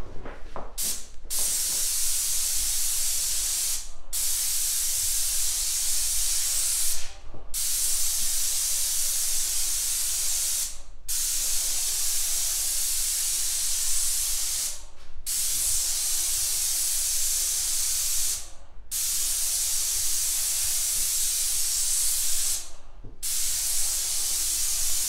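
Paint sprayer applying interior house paint, a loud steady hiss running continuously with brief gaps every few seconds as the trigger is released.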